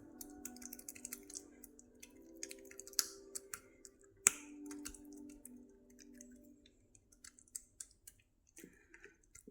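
Bottle gourd dough being patted flat by hand on a wet cloth, giving soft, irregular slaps and taps with one sharper clap near the middle, close and fairly quiet, with no talking.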